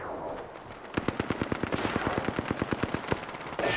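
Automatic weapon fire in Apex Legends Season 6, a rapid, evenly spaced burst of about two dozen sharp shots, close and punchy, rattling for nearly three seconds after a brief quieter lead-in.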